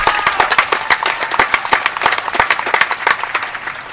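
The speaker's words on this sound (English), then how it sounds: "Give them a nice round of applause." Crowd applause at a state Little League tournament skills competition, a loud, dense patter of many hands clapping together, sustained throughout with faint voices mixed in.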